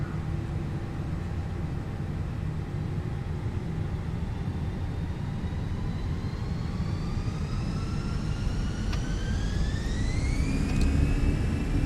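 Airbus airliner engines spooling up for takeoff in a flight simulator: a steady, loud broadband roar with whining tones that climb gradually in pitch, with no talking.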